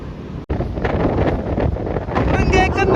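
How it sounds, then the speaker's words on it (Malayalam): Strong gusting wind on a seaside cliff roars straight into the microphone, a loud continuous buffeting rumble that drops out for an instant and then returns harder, with a voice faintly underneath. "ഒന്നും കേൾക്കുന്നില്ല, കാറ്റ്"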